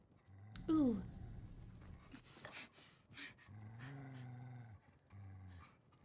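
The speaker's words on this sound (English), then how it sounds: "Has she ever seen a dog?" Dog growling and snarling in a Fallout TV episode scene, short bursts of low rumbling growls with a sharp yelp early on, mixed with other scene sounds.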